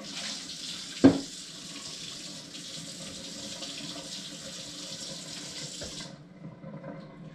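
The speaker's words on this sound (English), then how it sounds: "rinse all that spinach down the sink" Tap water runs steadily into a kitchen sink as spinach is rinsed down the drain, a continuous near hiss with a sharp knock at the start and a second near the end, cut off abruptly near the close.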